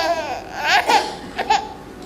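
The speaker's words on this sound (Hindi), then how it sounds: "ये किसके रोने की आवाज?" Infant crying in a staged Hindi theatre production, a few short wavering wails and sobs close to the microphone, heard alone without talk.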